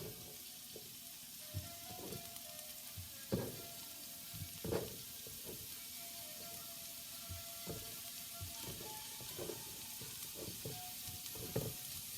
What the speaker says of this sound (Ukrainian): І на сковорідку відправляємо закарамелізовувати виноград.